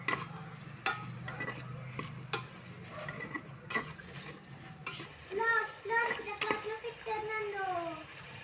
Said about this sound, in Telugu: బాగా మిక్స్ చేయండి టమాటాలని.